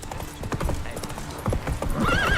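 A horse gallops with rapid, steady hoofbeats in The Witcher 3: Wild Hunt on PC, loud and close, joined by a brief whinny near the end.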